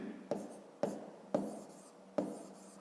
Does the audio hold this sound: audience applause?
no